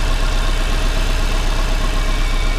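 Subaru EJ202 engine idling in an SF5 car once warmed up, a steady close rumbling idle with even low-pitched throb and no voices.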